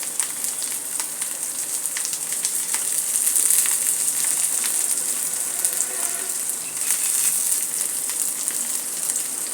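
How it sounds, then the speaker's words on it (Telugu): Chopped carrot fries in a pan for ravva upma, a steady, close, hissing sizzle with fine crackles that swells slightly midway and runs without a break. "ఇప్పుడు క్యారెట్ వేస్తున్నాను. అది కూడా బాగా వేగని."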